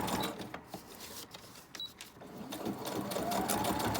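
Sewing machine running a straight stitch, a faint, quick mechanical whirring and clicking of the needle in short bursts that speed up toward the end, heard close with no talk over it.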